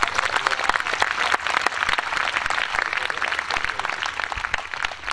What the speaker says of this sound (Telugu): కొట్టు చప్పట్లు గట్టి